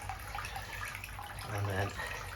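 Water is tipped into a tank of fish fry, a soft continuous splashing and trickling up close with a brief louder gurgle near the end, while a voice talks over it.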